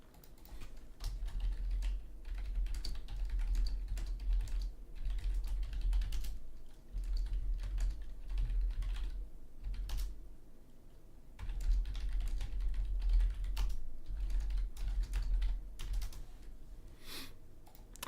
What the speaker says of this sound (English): I got busy typing to people about things.